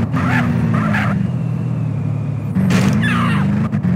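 A fast car in the video game GTA San Andreas drives with a loud, steady engine drone, accompanied by short bursts of tire screech or skidding and a shift in engine pitch partway through.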